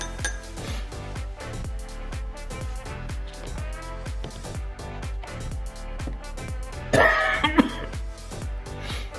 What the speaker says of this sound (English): Sorry about my cough there.